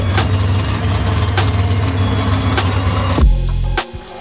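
A drag racing car's engine runs at a rough, loping idle with rhythmic clattering pulses, then cuts to a lower rumble near the end, close and loud.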